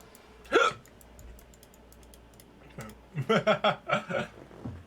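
A person hiccups loudly once, close to the mic, while playing Guild Wars Prophecies. After a quiet stretch comes a quick run of short, choppy bursts that could be more hiccups or stifled laughter.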